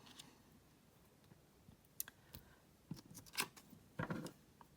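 Small scissors snipping a little piece of paper for a cascade greeting card, a few quiet sharp clicks and snips spaced irregularly against a near-silent room.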